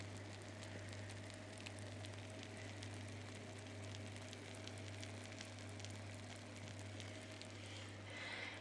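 A freshly baked Greek pie, just out of the oven, gives a steady, soft crackling sizzle of something hot bubbling, continuous and close, with a low constant hum underneath.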